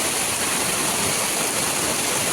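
Heavy rainwater rushes down from a hillside after a downpour, a constant dense roar of flowing water that fills the whole moment without a break.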